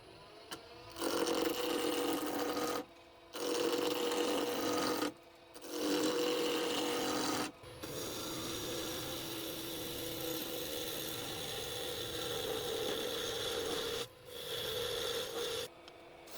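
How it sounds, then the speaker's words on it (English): Wood lathe turning a laminated blank into a cylinder, a close raspy scraping hum in sustained bursts broken by short pauses as the tool lifts off, fairly quiet overall and with no talking. "I mount the laminated blank on the lathe and start turning it into a clean,"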